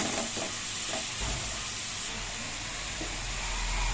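Tomatoes and onions sauté in a pan for a Tamil chicken curry, giving a close, steady sizzle with scraping and stirring sounds throughout and no voices.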